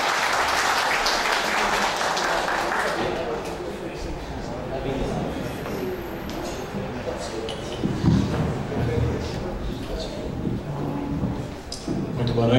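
Audience applause at a cultural ceremony for a singer, an award-winning tribute performer; a dense crowd clapping in the opening seconds fades into a murmur of shuffling, thumps and voices.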